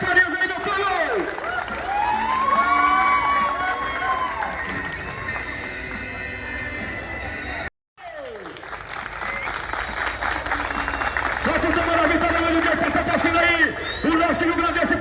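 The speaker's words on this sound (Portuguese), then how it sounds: "pode aplaudir a vaqueira Catifarias aí, meu povo!" Crowd at an arena inauguration in Maranhão claps and cheers loudly and steadily, with an announcer's amplified voice and music carrying over the applause, a brief dropout midway.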